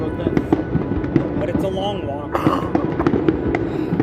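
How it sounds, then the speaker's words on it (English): Fireworks bursting in a rapid, irregular series of loud cracks and booms at a big outdoor display in Ottawa, Canada, with people talking and exclaiming close by throughout. "Wow! Amazing fireworks!"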